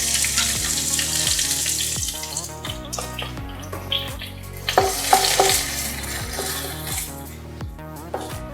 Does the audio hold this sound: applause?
no